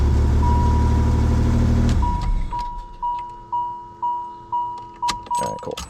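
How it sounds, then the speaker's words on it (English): A Pontiac Fiero GT engine runs loudly for about two seconds and then shuts off, followed by a regular series of chimes or beeps pulsing about every half second. "Hey, imagine that car runs."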